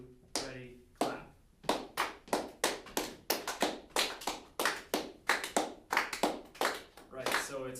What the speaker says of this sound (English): I'm gonna clap the beat. So I'm gonna clap 1, 2, 3, 4, but I want you guys to clap where we play